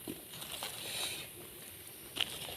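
Light rain pattering steadily outdoors in the forest during mushroom foraging, a soft continuous hiss with faint scattered drops and a brief sharper sound near the end.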